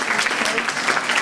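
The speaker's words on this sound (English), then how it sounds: "I think we need another big round of applause" Audience applause at a school event, a steady dense wash of many hands clapping that carries evenly through the whole moment.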